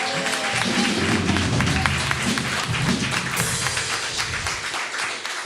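A church congregation applauds during a Spanish-language sermon, a fairly quiet wash of clapping with louder scattered claps and a low murmur of voices underneath, holding steady throughout.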